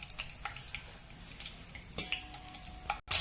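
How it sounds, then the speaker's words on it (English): Onions fry in a pan for vegetable dum biryani, a low crackling sizzle broken by scattered clicks and spoon knocks, ending in a sudden louder burst of hiss. "Fry the onion"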